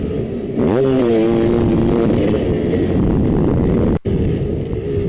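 A dirt bike engine revs up and holds a loud, steady drone during a hare scramble race, close by, with a brief cut near the end.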